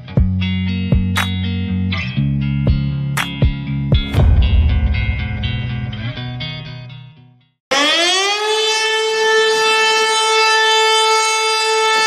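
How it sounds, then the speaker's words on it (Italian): Civil defense siren sounded as a test of the high-tide warning system, its tone steady and loud after a burst of stepped electronic signal tones and a short gap. "una simulazione delle sirene che vengono attivate in caso di maree eccezionali"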